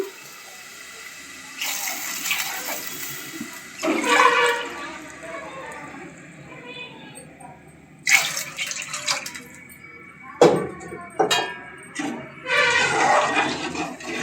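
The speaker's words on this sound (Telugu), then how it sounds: "మూడు గ్లాసులు నీళ్ళు అయితే పోసుకుంటున్నాను" Water splashes and gushes in several bursts, poured by the glassful close by into a pot of rice, with quieter pauses between the pours.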